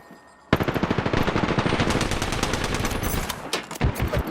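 Automatic gunfire in Apex Legends, a loud, close burst of rapid evenly spaced shots that rattles steadily for several seconds, with a few separate heavier shots near the end.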